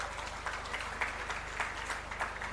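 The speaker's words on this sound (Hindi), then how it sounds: "एक बार जोरदार ताली बजा दो" An audience claps at a live political address by Chief Minister Bhupesh Baghel, a dense, even wash of applause heard from a distance, fairly faint and continuous with no voices over it.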